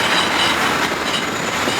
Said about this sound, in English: There's trains running, or tubes, or undergrounds, whatever it is, here, trams.